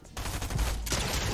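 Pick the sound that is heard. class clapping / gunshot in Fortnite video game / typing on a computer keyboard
gunshot in Fortnite video game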